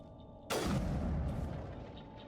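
A single sharp gunshot-like blast from the video game Mass Effect 1, loud and close, followed by a long decaying boom and rumble with no talk over it.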